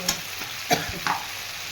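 Duck egg curry masala is sautéed in a pan, three quick scraping strokes of a spatula over a low steady sizzle, close and brief, with nobody talking.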